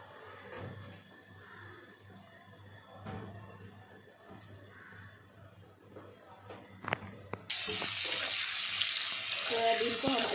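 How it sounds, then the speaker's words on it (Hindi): Coated soybeans drop into hot oil in a kadai for deep-frying. After quiet kitchen sounds, a sudden loud, dense sizzle starts and holds steady to the end. "सोयाबीन को हम अच्छी तरह से थोड़ा ब्राउन कलर आने तक ऑयल में फ्राई कर लेंगे।"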